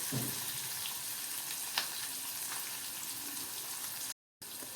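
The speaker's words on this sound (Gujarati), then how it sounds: "મરચાંને આપણે ફ્રાય થવા દઈએ" Green chillies fry in oil in a pan, producing a steady, dense hiss and crackle with a few sharper pops, close and continuous until a brief dropout near the end.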